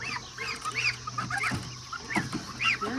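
Geese and ducks honking and quacking in a busy, overlapping chorus, repeated calls at close range with no voices.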